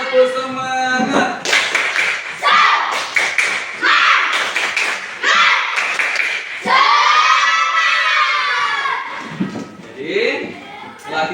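Classroom students perform a rhythmic spirit clap, repeated patterned claps mixed with chanting voices, then spoken talk taking over toward the end.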